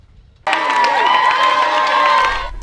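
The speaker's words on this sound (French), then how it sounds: "Des applaudissements, des chants et des cris" A large crowd gathered on the Kimwenza plateau in Congo bursts into loud cheering, singing and shouting to welcome a new open-air school without benches. The roar starts abruptly and stays dense and high-pitched, with children's voices prominent.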